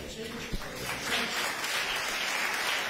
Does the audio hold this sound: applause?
yes